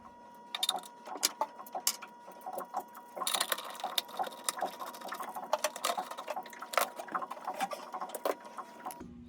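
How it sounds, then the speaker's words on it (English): An air intake hose is worked off the carburetor plenum of a 1984 Chris-Craft Catalina 381 boat engine, with quiet, irregular clicks, taps and rubbery scrapes up close in a still engine compartment. "So let me get this hose removed"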